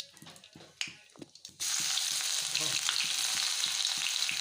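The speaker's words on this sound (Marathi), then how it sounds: "कांदा व्यवस्थित परतून घ्यायचा" Onion fries in a pan with spices for an egg curry. Scattered spoon taps come first, then a loud, dense, continuous sizzle takes over and stays steady to the end.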